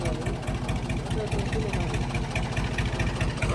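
A tractor engine idles with a steady, low, throbbing chug at a village Sikh religious procession, close and continuous without pause.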